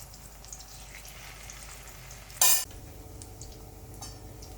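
Eggplant frying in a pan gives a quiet, steady sizzle, broken midway by one short, sharp bright burst of hissing or clatter before the gentle crackle resumes.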